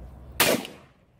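A single loud blast from a pistol grip shotgun fired at a Florida firearms training range, a sharp close report followed by a quick fading tail.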